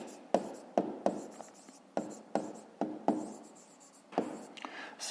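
A pen writing a maths answer on paper for a Grade 5 exercise in rounding decimals, heard as a run of short, close scratchy strokes with brief pauses between them, carrying on steadily with no talk.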